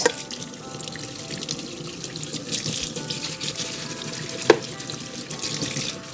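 Tap water runs steadily into a sink while parts of a MioMat plant-based milk maker, including its blades, are washed, with a continuous close splashing flow and occasional knocks of the parts.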